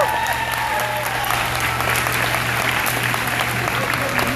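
A crowd in a pow wow arena applauds a young male fancy dancer, dense continuous clapping with no voices over it, holding steady from start to finish.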